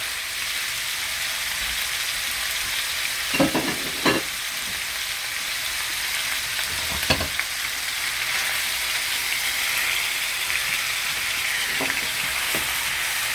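Meats fry together in a pan for baked beans, a loud, steady sizzle and crackle with occasional sharper pops and scrapes of stirring.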